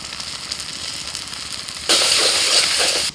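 A watery paste of ground coriander, cumin, chilli and Kashmiri chilli powder hits hot oil with a sudden loud sizzle that erupts partway through after quieter background noise and holds strongly to the end.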